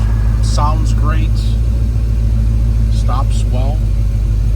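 A 1967 Chevrolet Chevelle cruises with a deep, steady engine rumble filling the cabin, while someone talks over it throughout.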